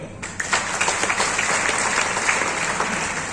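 Loud, steady applause from an audience at a leadership event, a dense wash of many hands clapping that swells in after a brief lead-in and holds evenly throughout.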